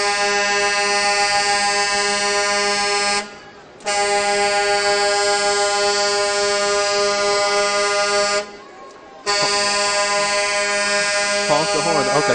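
Loud, sustained blasts from a Coca-Cola truck's horn at a downtown Martin Luther King Jr. holiday parade, three long honks separated by brief breaks, with crowd noise beneath.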